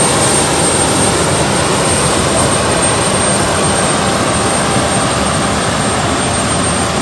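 A jet aircraft engine, the Amiri flight waiting with a tug hooked up before departure, roars loud and steady throughout as a constant broadband wash with a high whine on top.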